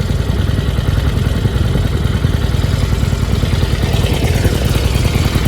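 A stock 2020 Harley-Davidson Iron 1200 Sportster XL 1200NS idles close by with a loud, steady, low rumbling throb that holds even from start to end, with no talking.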